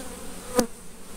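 Honey bees around hive feeders outdoors, a faint steady buzz with one louder close pass as a bee flies by the microphone, no talk.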